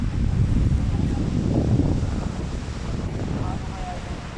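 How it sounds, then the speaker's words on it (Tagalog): Heavy surf rumbles and crashes nearby at Digisit Beach in Baler, Philippines, a continuous roar of strong waves mixed with gusty wind buffeting the microphone. "Nalakas ng alon"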